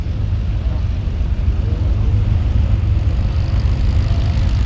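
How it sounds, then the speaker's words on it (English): P-51 Mustang propeller aircraft flying a trail barrel roll at the Sywell Airshow, a loud, continuous engine roar with a deep low rumble, steady and fairly near throughout. "P51's performing another trail barrel roll."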